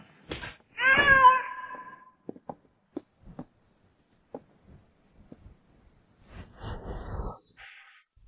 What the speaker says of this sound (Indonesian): Kucing ini, yang kamu pelihara waktu sekolah dulu ya?